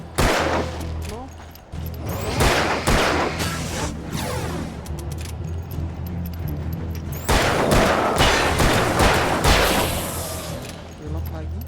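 Gunfire in the video game Alan Wake: repeated sharp shots and bursts spread across the stretch, loud and close, with crashing impacts and a voice talking among them.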